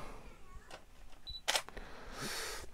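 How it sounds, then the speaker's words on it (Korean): A Canon 7D Mark II camera fires its shutter once, a sharp, close mechanical click heard in a quiet room, followed by soft handling noise. "아 셔터 정말 부드럽네요."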